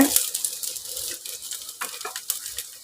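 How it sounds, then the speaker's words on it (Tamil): Chayote (chow chow) being sautéed in a pan over a low flame for chutney, giving a soft steady sizzle with occasional stirring scrapes throughout. "நீங்கள் கருகாமல் லோ ஃப்ளேம்லேயே வச்சு இதை வந்து நீங்கள் வதக்கி எடுத்துக்கோங்க"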